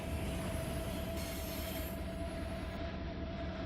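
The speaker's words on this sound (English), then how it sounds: "You hear the traction motors there, that's not brakes." Locomotive traction motors whine in a Run 8 train simulator, a steady electric hum with rolling railcar noise beneath it, continuous and even throughout.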